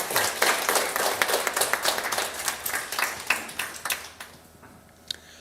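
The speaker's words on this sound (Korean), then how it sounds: "박수 한번 해주시죠" An audience at a university admissions information session claps to welcome a speaker, a loose burst of individual claps that thins out and dies away after about four seconds.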